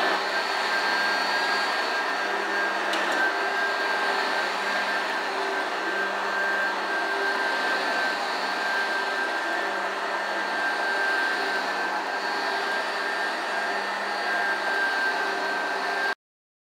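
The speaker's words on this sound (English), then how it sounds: "You want to use like a vacuum cleaner that says at least commercial on it" A commercial vacuum cleaner runs on carpet, a steady motor whine with a high tonal hum and airy rush, close and unchanging for the whole stretch.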